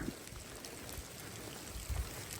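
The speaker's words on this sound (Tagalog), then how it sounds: "Umulan na." During persimmon pruning in an orchard, rain patters faintly and steadily, a soft wash of drops with a few louder taps on nearby surfaces.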